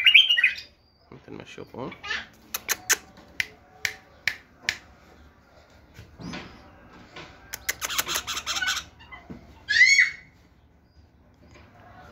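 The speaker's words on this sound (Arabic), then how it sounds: "هذا تغريد النثية طبعا." A caged female Basra bulbul sings sharp, high whistled phrases, loud and close, at the start and again near the end, while someone talks and snaps his fingers in between.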